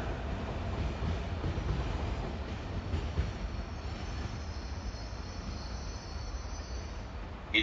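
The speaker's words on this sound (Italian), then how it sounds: "Il treno regionale, proveniente da Venezia Santa Lucia, è diretto a Bassano del Grappa" A regional train rolls into Venezia Mestre station with a low, continuous rumble of wheels on rails and faint squealing, steady and moderately distant throughout.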